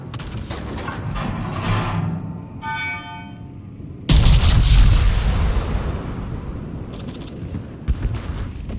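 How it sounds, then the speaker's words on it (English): Naval gunfire in World of Warships: a few muffled cannon thumps and a whistling shell early on, then a heavy booming blast that rolls off slowly, followed by a couple of sharper hits, with no talk. "everybody can see me, so they're shooting at me now"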